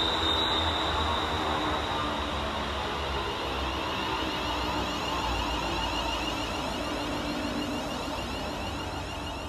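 A West Midlands Railway Class 350 electric train rolls into Tame Bridge Parkway station with a steady rumble and rising wheel hiss, a continuous, loud approach with faint squealing from the rails.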